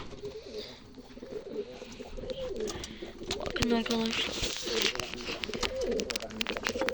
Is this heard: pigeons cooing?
yes